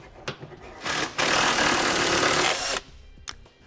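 A ratchet or impact tool works a bolt loose with a 15 millimeter socket on the frame of a 2016 Ford E-Series van, a steady mechanical whirring burst lasting about two seconds between a few short clicks.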